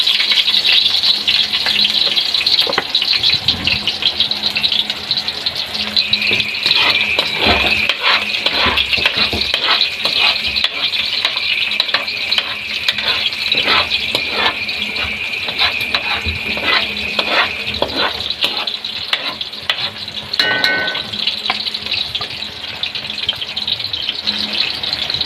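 Garlic sautéing in a hot pan gives a constant close sizzle, broken by repeated scraping and stirring strokes of a utensil against the metal.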